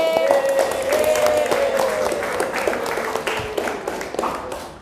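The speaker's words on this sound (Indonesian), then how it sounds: "tepuk tangan untuk Mas Abdillah dan Mas Re." Students in a classroom applaud Mas Abdillah and Mas Re with a burst of scattered clapping that gradually thins out, a faint tone lingering beneath.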